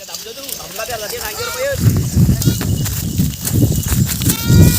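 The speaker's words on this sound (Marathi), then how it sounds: "चलो आपल्या शेळ्या आता आलेल्या शेतात" Goats bleat in a wavering call as they come into a field, followed by steady rustling and shuffling movement while a person talks over it.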